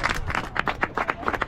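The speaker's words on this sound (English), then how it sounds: "Keep the applause going." A small group applauds outdoors during a cycling tour stop with the mayor, a few hands giving sparse, distinct rhythmic claps close by for a moment.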